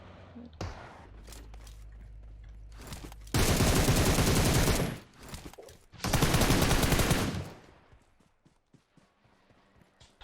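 Two long, loud bursts of rapid automatic gunfire in PUBG Mobile, each lasting over a second, separated by a short gap and framed by quieter game sounds and scattered clicks.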